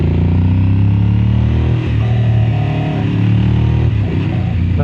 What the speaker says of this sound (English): I have missed the bark of this machine.